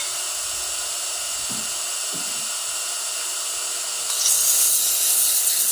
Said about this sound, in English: I'm going to sand lightly